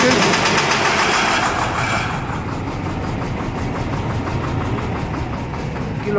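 An International DT466 diesel engine catches after a hard start and settles into a loud, steady idle, its rough rumble close and continuous throughout.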